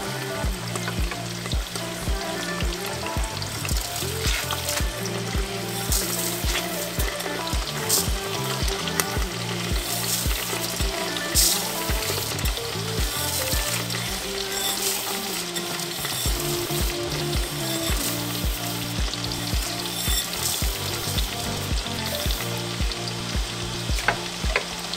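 Rice stirred into a pan of sizzling salsa for kiam-pung rice, frying steadily with a constant loud crackle and repeated scraping stir strokes, close up and without talk.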